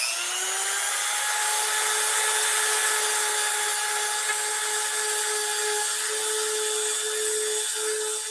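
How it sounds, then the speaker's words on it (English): A Dremel rotary tool grinds down rough edges of a cosplay piece with a loud, continuous high-pitched whine, its steady tone holding unbroken and close throughout. "We do have some more rough spots here that I can use the Dremel to take down even more."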